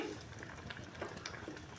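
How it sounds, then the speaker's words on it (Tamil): A pot of thick turkey berry curry bubbles and simmers quietly, with soft irregular pops and blips over a gentle steady hiss. "பாருங்கள் நல்லா கொதிச்சிருச்சு"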